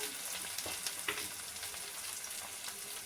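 Onion frying in a pan for a Bombay duck fish bharta, a continuous fairly quiet sizzle with light scattered clicks and spatters and no voices.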